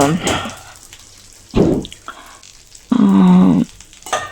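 Grated beetroot fries in a pan for beetroot rice, giving a few short bursts of sizzling between quieter stretches, loud and close.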